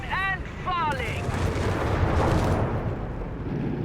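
Gunfire and explosions in the strategy game Company of Heroes 3, a dense rumbling barrage that follows a short burst of chirpy effects, loud and continuous.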